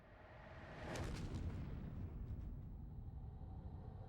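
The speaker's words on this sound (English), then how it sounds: "Are they always going to open with an explosion?" A deep, rumbling explosion effect opens a PlayStation Underground demo disc, swelling into a loud low boom with a brief crackling burst, then settling into a sustained dark roar that fades slowly.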